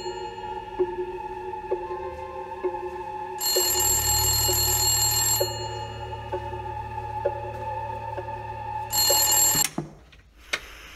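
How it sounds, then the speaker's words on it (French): A telephone rings in the horror video game The Haunted 2, two bright trilling bursts sounding over a repeating eerie tonal music loop before the clip cuts off abruptly. "Téléphone qui sonne, c'est quoi ce bordel?"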